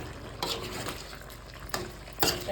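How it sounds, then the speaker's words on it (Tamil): Spoon scraping and stirring chicken curry in a pot, a few distinct scrapes and clinks spaced over a couple of seconds against a low background. "லைட்டா ஒரு பெரட்டு போட்டு அப்படியே பெரட்டி விட்டுட்டு"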